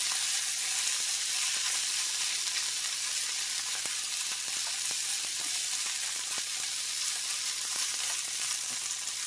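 Onions sizzle and fry steadily in a pan for bangers and mash, with a soft continuous hiss and occasional faint crackles, close but quiet, with no talking.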